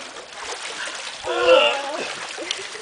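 Water splashes and churns in a pool whirlpool, a continuous wet rush with a louder surge midway as a voice calls out over it.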